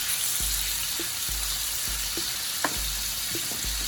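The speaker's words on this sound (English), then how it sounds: "Okay, so I'm just gonna saute this until it's done" Mushrooms sautéing in a pan for pork lo mein, a steady hiss of frying with rhythmic low thumps and light clinks from stirring, close and alone.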